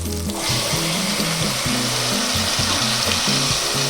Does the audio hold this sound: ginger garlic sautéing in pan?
yes